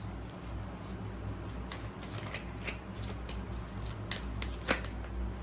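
Close riffle of a fresh deck of tarot cards being shuffled, a continuous soft papery flutter with a few sharper snaps, no one speaking over it.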